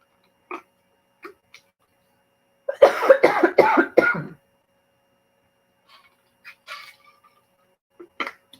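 A burst of several rapid, harsh coughs clustered together, loud and close, with a few faint clicks and small noises scattered before and after.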